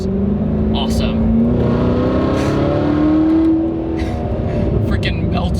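A 2019 Corvette ZR1's 6.2-liter supercharged V8 roars and revs up, pitch climbing steadily, then eases off; loud and close, with speech mixed in.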